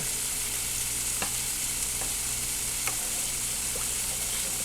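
Seasoned leftover chicken and shrimp stirred in a hot pan: a loud, steady frying hiss fills the whole stretch, broken by a few faint scrapes and taps from the spoon.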